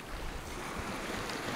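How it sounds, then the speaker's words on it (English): Sea waves rolling in at Kimmeridge Bay on a rocky shoreline, with a steady broadband wash of surf and wind buffeting the microphone, continuous and fairly loud without any talk. "waves coming in now, so I'm just going to hang on."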